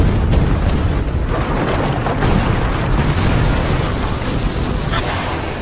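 Heavy cannon fire rumbles in a dense, continuous roar of booms and blasts, loud and close, with no clear talking.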